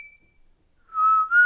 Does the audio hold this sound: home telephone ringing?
no